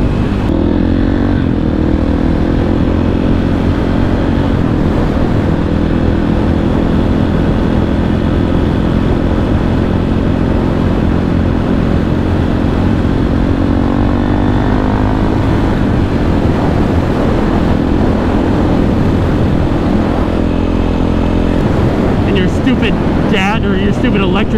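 A supermoto motorcycle being ridden roars loudly and continuously at close range, with rising and falling revs and heavy wind rush. A voice speaks over the engine.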